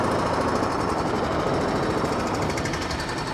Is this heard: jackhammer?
yes